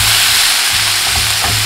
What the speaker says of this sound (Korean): 야채는 약간 센 불에 볶는 게 좋습니다.